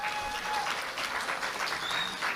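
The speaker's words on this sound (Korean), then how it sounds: "큰 박수를 한번 보내주시기 바랍니다." Party members at a Liberty Korea Party national convention tour stop in Jeju applaud the leadership candidates, a steady, dense round of crowd applause filling the whole moment.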